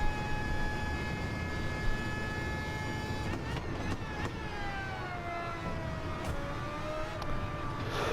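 A racing car engine in a driving video game revs high with a whining, harmonic tone, dropping and climbing in pitch through gear changes, sounding continuous and fairly close.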